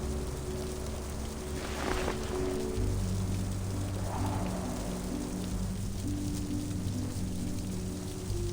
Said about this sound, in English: Rain pulling itself right off the ground and rising up into the sky.